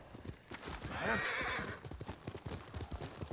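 A horse gallops with rhythmic clip-clop hoofbeats and lets out a clear whinny in the video game Ghost of Tsushima, with a voice speaking faintly under the hooves.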